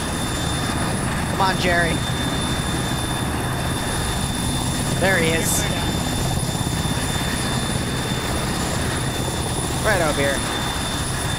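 Military video game helicopter, a mustached medevac chopper, droning steadily throughout at moderate level beneath several people talking.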